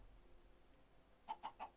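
Minecraft chicken clucking, four short quick clucks near the end after a faint pause, quiet against a soft background with no speech.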